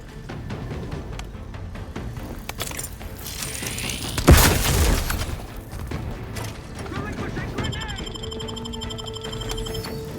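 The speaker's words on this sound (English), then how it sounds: "Explosion imminent!" A single heavy explosion booms in The Outer Worlds 2 gameplay during a combat mission, rising above ongoing game sounds and dialogue, then fading back into the background mix.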